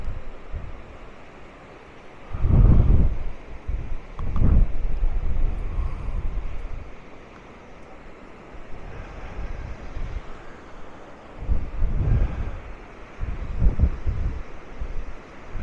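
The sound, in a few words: strong wind at Maspalomas beach, Gran Canaria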